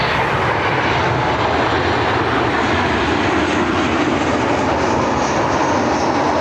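A military E-6 aircraft flies overhead near Cleveland Hopkins, giving a loud, steady, broad engine roar that fills the whole stretch without a break.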